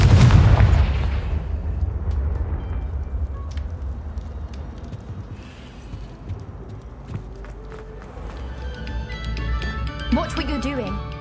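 A Confringo blasting curse explodes in Hogwarts Legacy: one loud, close burst at the start, then a rumbling decay and scattered debris sounds, with faint game ambience and chimes later.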